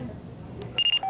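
Cellular phones ringing at a Casa del Taco in an Andover shopping center during the 1991 tornado aftermath: a few short, bright electronic beeps in quick succession, then a longer tone, over a low murmur of background voices.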